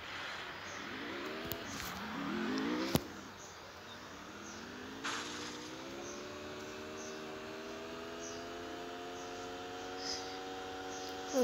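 A car in the Free Fire video game drives off, its engine hum rising steadily in pitch as it accelerates. The sound is fairly quiet, with a couple of short clicks near the start and no talking.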